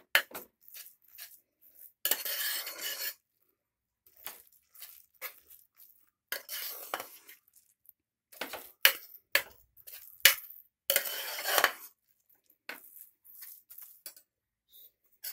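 A utensil mashes soft cooked pongal in a pot, making close, intermittent scrapes and metallic clinks with short pauses of quiet between strokes.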